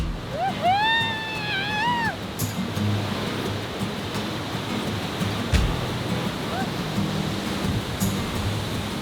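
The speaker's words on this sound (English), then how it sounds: "One of our favourites was the Yandi waterfall" A steady roar of falling water from a waterfall in Iceland fills the air, broad and constant, with a brief whistling bird call near the start.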